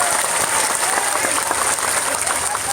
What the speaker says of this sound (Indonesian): tepuk tangan untuk anda Taiwan